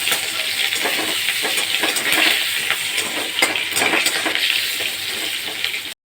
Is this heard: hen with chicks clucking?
no